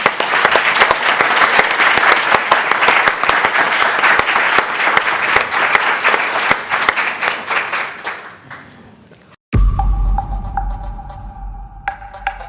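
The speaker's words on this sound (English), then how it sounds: "big round of applause for Kyriana." Audience at a Star Wars Celebration Japan convention panel applauding, loud and close, sustained clapping with sharp individual claps that gradually thins and fades away, then cuts to a different segment with a low hum and tones.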